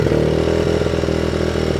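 A Honda CRF50 dirt bike engine idles high with a steady, close, continuous putter, with no voices over it.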